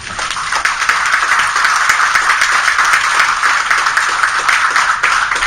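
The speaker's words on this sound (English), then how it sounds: "let us give you a round of applause" Audience at a state legislative hearing applauds people standing in the room, a loud continuous wash of clapping with no break.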